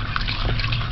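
Running water pours steadily over soaked peas being rinsed, a continuous close splashing wash with no pauses.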